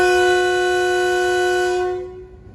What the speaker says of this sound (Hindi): काफ़ी स्ट्रॉन्ग हॉर्न है ZCU20 का।